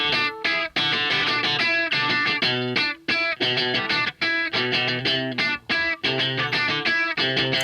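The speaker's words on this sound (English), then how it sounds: "we're putting on that channel strip. Which you can hear just completely brightens it up." Distorted electric guitar playing a rhythmic chordal part through a compressor and channel strip, loud and bright with short choppy gaps between strums, alone without talk.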